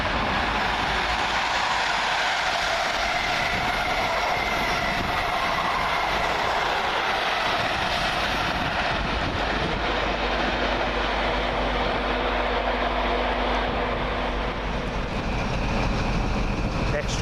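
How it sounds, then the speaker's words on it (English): A Grand Central passenger train bound for Sunderland passes through Doncaster station as a steady, loud rolling roar with rail rumble, a faint tonal whine appearing midway. "Now I believe this is going to be the Sunderland train."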